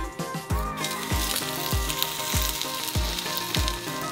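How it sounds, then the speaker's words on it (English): Scallion pancakes frying in hot canola oil, a bright steady sizzle under rhythmic backing music with a regular thumping beat. "When it's hot, add the scallion pancakes slowly."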